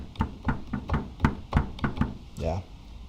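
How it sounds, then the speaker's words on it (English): Kultrun drum from the Andean sample library Andea, struck in a string of about eight deep, resonant hits with short decays, close and alone, ending on a brief rising tonal sweep. "We've got a cultrun,"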